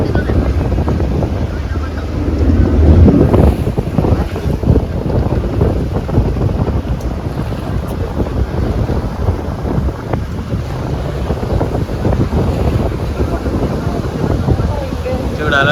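Boat ride on the sea off Goa, the craft pounding through incoming waves with heavy wind buffeting the microphone, rushing water and engine rumble loud and continuous throughout.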